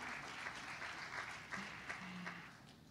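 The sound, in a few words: audience applause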